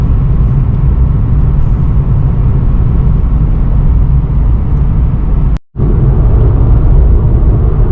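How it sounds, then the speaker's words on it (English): Inside a base Nissan 370Z coupe at highway speed on a rough road: loud, constant low rumbling road and tire noise, broken once by a split-second dropout before the drone resumes. "I'm not sure how well the microphone's going to pick up the road noise. This is a really rough road."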